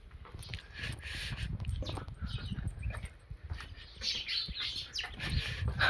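Sparrows chirp outdoors in the morning near a hotel, with bright scattered tweets over a low, busy background rumble, fairly close and continuous without speech.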